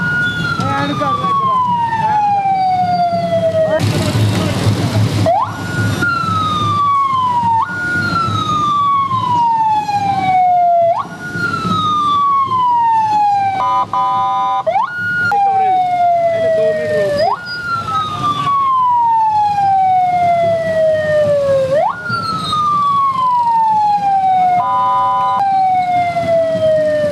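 An ambulance siren wails in a village, loud and near, repeating a falling sweep over and over with short bursts of other tones, and voices and traffic noise running beneath it.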